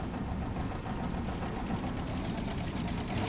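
A Corris Railway locomotive engine works at full throttle while climbing a slope, giving a steady, loud, low engine drone that holds constant throughout without breaks.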